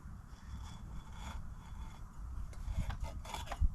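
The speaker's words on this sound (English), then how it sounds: "Sheet metal scraper" Quiet, steady rasping as a sheet metal scraper drags grease off a trailer hub, a continuous close scraping texture with a few louder strokes near the end.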